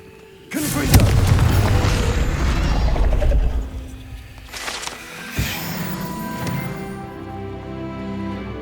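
A magical Confringo blast in Hogwarts Legacy booms loudly and suddenly, followed by a sustained rumbling burst, a second sharper impact, and a lingering ringing tail.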